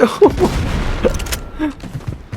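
In the Blood Strike shooter game, a grenade explodes amid gunfire: sharp bursts of shots and booms crack out irregularly over a noisy battlefield background.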